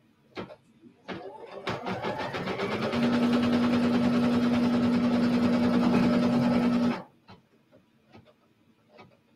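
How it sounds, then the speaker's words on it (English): A sewing machine stitches a vertical trimming and placement line on fabric, a steady close whirring run of about four seconds, bracketed by soft clicks and handling noises. "it's going to stitch a vertical trimming and placement line for my next piece of fabric"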